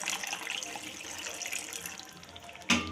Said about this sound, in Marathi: थोडंसं पाणी याच्यामध्ये टाकते